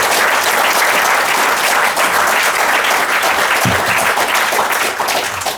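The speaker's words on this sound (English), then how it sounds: "Please give a round of applause" An audience at a Welsh folklore book talk breaks into loud, sustained applause, dense clapping filling the room for several seconds before tapering off at the end.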